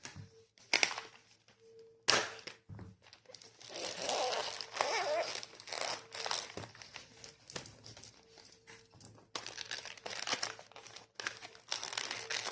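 Plastic packaging of a Stranger Things dice set being cut and pulled open, with close crinkling, rustling and sharp tearing bursts in irregular spurts over several seconds.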